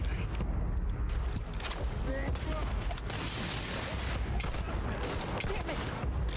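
Rapid gunfire in the video game Starfield crackles in dense, overlapping bursts, a steady loud barrage with no pauses throughout.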